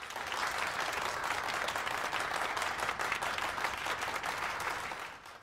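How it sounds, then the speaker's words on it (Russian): A classroom audience gives a dense burst of applause for a newly introduced teaching assistant, loud and sustained clapping from many hands that stays even for several seconds before tailing off at the very end. "Поприветствуйте аплодисментами!"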